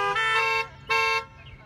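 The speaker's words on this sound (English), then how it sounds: "Boy, that deserves a honk." A car horn honks twice, with two loud, sustained blasts separated by a short pause, close by and heard on its own without any speech.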